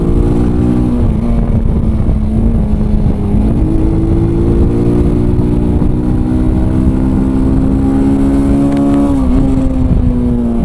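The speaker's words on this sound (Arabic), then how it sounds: "موتور تبارك الله يا سلام." A Sanya R1000 motorcycle engine idles loudly up close, a steady throbbing drone that swells slightly in pitch twice as the throttle is blipped, with no one speaking.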